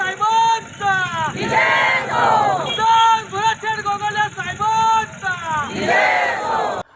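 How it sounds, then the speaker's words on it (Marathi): A Mahayuti election victory celebration in Mahad, where a large outdoor crowd shouts and chants slogans in loud, rhythmic bursts. Voices rise and fall in waves, with brief gaps between the cries. "महायुतीच्या विजयाचा महाडमध्ये जल्लोष"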